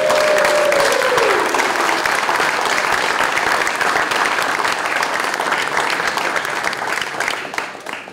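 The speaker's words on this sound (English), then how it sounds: "big round of applause next up for Westborough, our host community with 15 years." Audience applause fills the room at a Tree City, Tree Line and Tree Campus recognition ceremony, steady and dense clapping that holds loud for the whole stretch before thinning slightly at the end.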